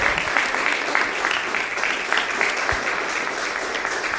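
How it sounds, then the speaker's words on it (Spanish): A church congregation claps in steady, sustained applause during a worship service, full and even for the whole stretch. "Denle un fuerte aplauso, Rey de Reyes."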